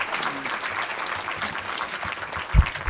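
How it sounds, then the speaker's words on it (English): An audience at a tourism marketing seminar claps steadily in a room, a dense patter of hands with a voice murmuring briefly underneath and a single low thump near the end. "give them a big round of applause"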